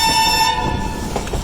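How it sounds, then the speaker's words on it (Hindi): A train hauled by an AG 30 locomotive approaches head-on, its loud sustained horn blaring over the rumble of the rails before the horn cuts off and the rolling noise carries on. "AG 30 के साथ एक ट्रेन आ रही है सामने से।"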